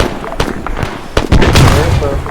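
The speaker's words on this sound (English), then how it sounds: "Oh, getting hit by a grenade launcher." Grenade launcher blast in the Arma 3 military game, a sharp loud boom followed by a sustained rumbling roar, with scattered smaller pops and people talking over the fight.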